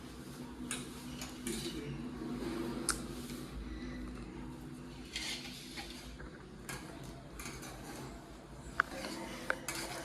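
Ingredients for chapati dough are mixed in a metal pot for a Vat Purnima festival dish, with steady scraping and clinking of utensil against the vessel, a few sharper taps near the end.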